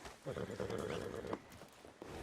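A horse whinnies faintly, with soft hoof clops mixed into a quiet Red Dead Redemption 2 game soundscape.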